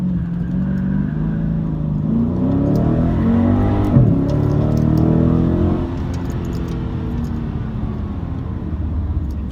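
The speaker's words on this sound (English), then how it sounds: "0 to 60 in the Scat Pack." A 2019 Dodge Scat Pack accelerates hard from 0 to 60 in second gear, its engine roaring loud and close in a steady, climbing drone that eases off near the end, with no voices.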